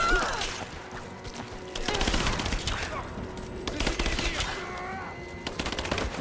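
Gunfire in the video game Rise of the Tomb Raider comes as dense, rapid bursts of shots, loud and continuous with crashing impacts throughout.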